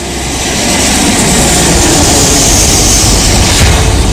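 An Air India Boeing 707 airliner taking off from Bombay produces a loud, steady jet engine roar that swells over the first second and then holds at full power, with no voices.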